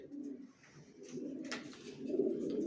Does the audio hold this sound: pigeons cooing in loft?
yes